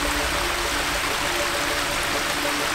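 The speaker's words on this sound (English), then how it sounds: "Oh, there's a waterfall over there?" A distant waterfall by an abandoned beach gives a steady, even rushing hiss throughout, with no talk.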